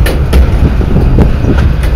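A Cumbres and Toltec train clatters along the rails leaving the yard, its wheels giving a loud, continuous rumble with rhythmic clicks at the rail joints, close by and heard alone.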